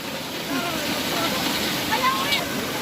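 Floodwater rushing over a creek in Bohol, a broad steady roar of churning water that fills the scene, with people talking faintly underneath.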